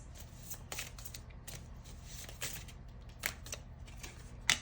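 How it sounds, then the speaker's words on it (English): Tarot cards being reshuffled by hand, giving a run of crisp riffling bursts and soft slides at close range, with sharper card flicks near the end and no talking. "I'm going to reshuffle."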